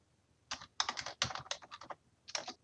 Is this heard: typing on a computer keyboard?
yes